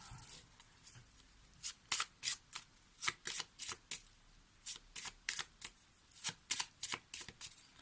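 Tarot cards are handled and shuffled after being taken from their box, making a close, crisp series of quick riffling bursts in an irregular rhythm, with no voices.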